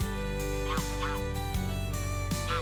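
Greylag goose honking in a hunting video game: a series of loud, nasal honks close by, repeated at irregular intervals over a steady droning background with no talk.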